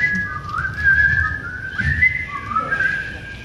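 A person whistles a wavering, sliding melody up close with a loud and continuous tone that bends through several notes over a few seconds, with no talking.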